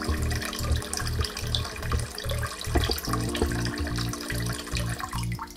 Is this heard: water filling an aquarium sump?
yes